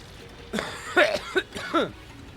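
A few short, sharp coughs in quick succession, close and fairly loud, with no talking.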